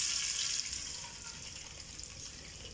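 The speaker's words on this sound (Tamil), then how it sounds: "இனி வாட்டர் சேர்த்துக்கலாம்." Water is poured into hot oil in a pan for rava kesari, making a soft, steady hissing rush that eases off slightly after the first half-second.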